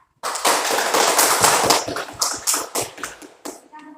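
Classroom applause as students clap for a classmate after a presentation, a dense run of many sharp hand claps filling most of four seconds before thinning out near the end.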